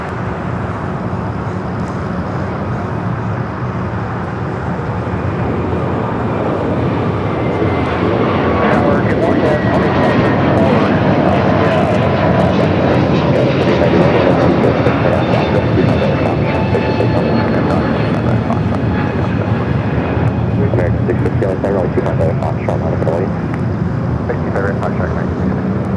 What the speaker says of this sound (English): The next takeoff is United Airlines flight 3042 heading to Chicago O'Hare. It's an A321neo.